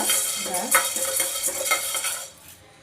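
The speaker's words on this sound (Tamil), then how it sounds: "அடுப்பில் ஒரு சட்டியில் ஒரு கைப்பிடி அளவு கொண்டக்கடலை வறுத்துக்கோங்க" A handful of chickpeas dry-roasting in a pan on the stove, with a busy stream of rattling, scraping stirs and metallic clinks close up, tapering off at the end with no talking.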